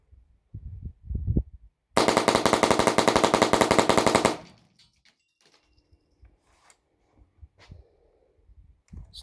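A rifle fires .22 rounds in one rapid, loud burst of about two seconds, each shot crisp and close, then trails off into quiet handling noises and small clicks. Short breathy sounds come just before the string.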